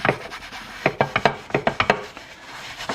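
Scrubbing a frying pan crusted with dried eggs in cold water, a quick series of sharp rasping strokes, close and loud, with a few pauses between bursts.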